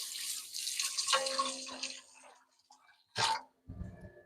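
Spatula rinsed under a running kitchen tap while juicing, a soft hiss of flowing water with faint splashes, followed by a brief louder burst of water and some clatter near the end.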